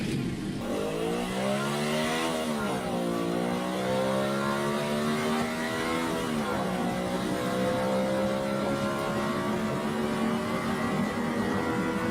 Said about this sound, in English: Now I'll take Mr. Nerdly for a ride